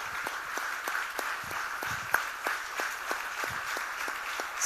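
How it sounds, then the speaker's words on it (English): Applause for the top 17 finalists at a coding competition finale, a steady round of clapping from a hall audience with distinct close claps standing out above the crowd. "Can we have a round of applause for all the participants, the finalists, the top 17."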